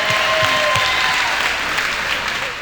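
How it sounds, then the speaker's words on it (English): Audience applause at a live comedy show, a dense, steady clapping from a crowd that holds for a few seconds and then slowly begins to fade. "Give them a round of applause for being brave enough to come out."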